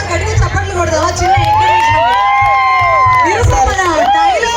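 A crowd at a beach festival in Vizag claps and cheers loudly and continuously, with shouts and whoops close by and people talking over it.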